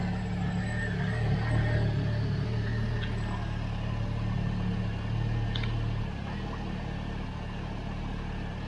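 An Opel Astra engine idling unevenly after a rebuild and supercharger install, with a belt rubbing through a coolant pipe: a steady, close, low mechanical drone and hum that holds for several seconds with slight dips in level.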